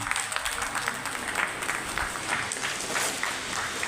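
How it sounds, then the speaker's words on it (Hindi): A crowd at a Sindhi community partition remembrance event in Delhi applauds loudly, many hands clapping in a thick, uneven patter that holds steady for the whole stretch with faint voices underneath. "एक बार तालियां बजा दीजिए जोर से"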